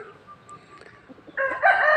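A rooster crows loudly and close by at a temple in Lampang, Thailand, its call rising partway through after a quiet stretch of faint background noise.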